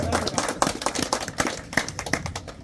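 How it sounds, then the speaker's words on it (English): Audience applause for the designer of the 2023 KTM RC 8C track motorcycle, as a sparse crowd claps in uneven, distinct hand slaps over about two and a half seconds, fairly close. "And round of applause"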